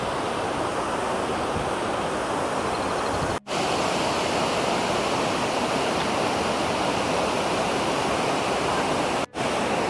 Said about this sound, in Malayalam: വെള്ളം ഇവിടെ ചെറിയൊരു വാട്ടർഫോൾ ഉണ്ടാക്കിയിട്ട് ഇങ്ങനെ ഒഴുകിയിട്ട് ഇങ്ങനെ അങ്ങോട്ട് ഒഴുകിപ്പോകും.